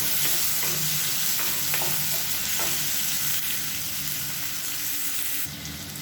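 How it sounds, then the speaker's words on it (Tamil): Onion, green chili and tomato sauté in a pan, giving a steady, close sizzle with occasional scraping stirs, continuous and fairly loud before easing slightly at the end. "இதையும் சேர்த்து நல்லா வதக்கிக்கலாம்."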